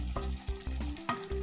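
Meat in tomato sauce being stirred in a saucepan for Tunisian pasta, a few scraping strokes over a steady low sizzle and bubbling, close and fairly loud.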